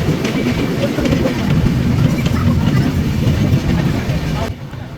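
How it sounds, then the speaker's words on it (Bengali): The Madhumati Express intercity train runs along the line after leaving Faridpur station, producing a loud, continuous rumble with rhythmic clickety-clack from the carriage, heard close from inside, before dropping slightly at the end. "আমাদের ট্রেন নির্ধারিত সময় থেকে প্রায় 10 মিনিট বিলম্বে ফরিদপুর স্টেশন ছেড়ে যায়"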